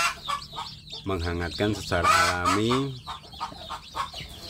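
Young free-range village chicks (anak ayam kampung) kept in a brooding box at night during the rainy season cheep and cluck in short calls, while someone talks nearby.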